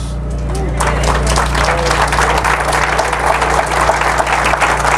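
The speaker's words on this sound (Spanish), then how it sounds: "tendríamos que darle un fuerte aplauso a Dios" A church congregation breaks into loud applause, the clapping building and holding steady over a low constant hum, with voices mixed into the crowd.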